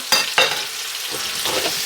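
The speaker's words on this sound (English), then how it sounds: "Garlic, going in with some garlic." Garlic hits a hot pot of onions and meat drippings with a loud, steady sizzle, two sharp crackling bursts at the start, then a continuous frying hiss close by.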